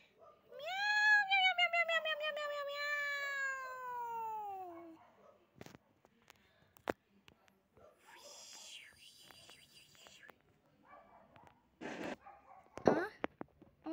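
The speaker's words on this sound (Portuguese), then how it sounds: "Um gato unicórnio? Miau!" A cartoon unicorn cat gives a long, rising-and-falling animated meow, loud and alone at first, followed by scattered light clicks, rustles and soft whispery sounds.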